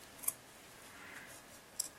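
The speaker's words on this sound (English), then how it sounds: "Take a good pair of scissors, very important." Fabric scissors snipping through fabric, two sharp, crisp cuts spaced well apart over a soft, quiet background.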